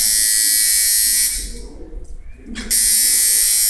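A tattoo machine with a freshly tightened contact screw runs with a loud, steady electric buzz close by, cuts out briefly in the middle, then starts up again at full strength.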